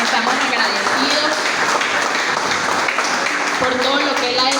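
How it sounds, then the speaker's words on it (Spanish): Congregation applauding during a church prayer service, dense clapping filling the space while a voice speaks over it. "Denle allí donde está un aplauso al Señor."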